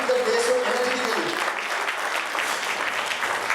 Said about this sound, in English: we should give him a round of applause for starting the day so energetically.